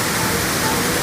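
A waterfall in Monteagle, Tennessee roars close by, a loud, dense and unbroken rush of falling water over a brief moment.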